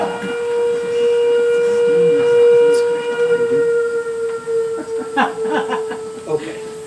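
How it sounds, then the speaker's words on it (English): A prison noon whistle gives a long, steady, loud blast that slowly fades, with a person talking briefly during its tail end. "That's the noon whistle. They always blow it at the prison at 12."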